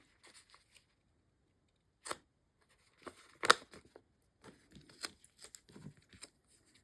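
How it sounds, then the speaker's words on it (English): Coffee-themed paper stickers peeled off a backing sheet give quiet, scattered crinkles and short tearing rasps, with one sharper rip in the middle and soft paper handling noises between, close and alone. "So when you go to peel them off the backing sheet, here, I'll show you with my coffee stickers what I mean."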